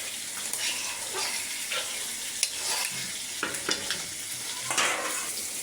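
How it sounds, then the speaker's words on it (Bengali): Mixed vegetables sauté in a pan with spices: a continuous sizzle broken by scraping spatula strokes and clinks, close and moderately loud, no talking. "এখন আমি সবজি একসাথে ভালোভাবে কষিয়ে নেব।"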